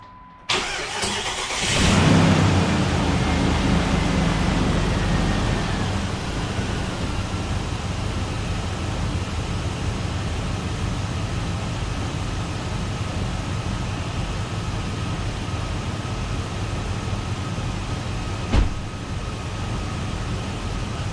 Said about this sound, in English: we're running again. It started, it runs, it idles like it's supposed to